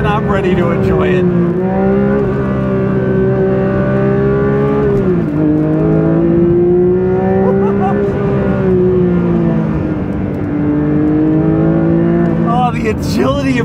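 A Porsche 911 S/T is driven hard on a dry road, its engine loud and close from inside the car, pulling through rising revs, shifting and climbing again, while someone talks over the engine noise.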